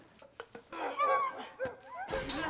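Dogs bark in a tense movie scene, several short yips and barks breaking out close by, with a whimpering edge between them.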